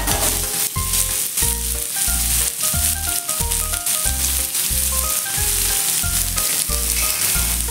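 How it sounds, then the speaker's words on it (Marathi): Cumin, asafoetida and onion fry in hot oil with a loud, steady sizzle, broken by regular scraping strokes of stirring; no one speaks. "जिरे, थोडासा हिंग व कांदा घालून घ्यायचा आहे।"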